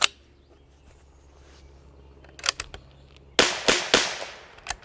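A Bergara B14R rimfire rifle fires several sharp close shots outdoors, one at the start, a quieter pair in the middle and a quick loud burst of three near the end, each with a short ringing tail.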